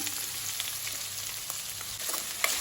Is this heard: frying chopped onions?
yes